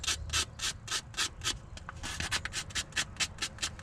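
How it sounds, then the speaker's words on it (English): Sandpaper of 220 grit rubs back and forth on an electrical contact of a 1978 Ford F600 4x4 truck, a close, rhythmic series of raspy scrubbing strokes, speeding up in the second half. "I grabbed some sandpaper. I'm going to try to clean this contact a little bit."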